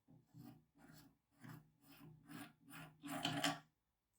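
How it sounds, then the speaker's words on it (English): A muzzle device is unscrewed from a Saiga MKK-102 rifle, giving a series of about seven quiet, evenly spaced rasping metal-on-thread scrapes, close up, with the last one longer and louder. "We're gonna keep on screwing, unthreading it and unscrewing it until it comes completely off."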